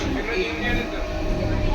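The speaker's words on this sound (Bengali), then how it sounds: "পুরো ফাঁকা ট্রেন।" Inside a nearly empty moving passenger train, a steady low rumble and rattle fill the carriage continuously at moderate volume.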